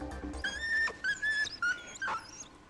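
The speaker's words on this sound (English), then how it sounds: "The dog whimpered out of cowardice and fled back into the bushes." A dog in the Hakuoki video game whimpers in a series of thin, high, quavering whines, four or five short cries close together against a quiet background.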